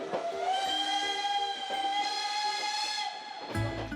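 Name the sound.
19th century steam train whistle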